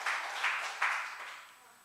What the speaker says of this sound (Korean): 우리 한번 박수 한번 쳐줄까요?